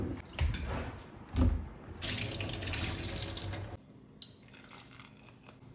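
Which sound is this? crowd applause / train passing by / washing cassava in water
washing cassava in water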